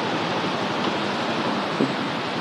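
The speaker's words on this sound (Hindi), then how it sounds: "दोस्तों बहुत ही खूबसूरत झरना है" A waterfall on the Hemkund Sahib trek in the Himalayas gives a steady, loud broadband roar of rushing water with no pauses, heard close and alone.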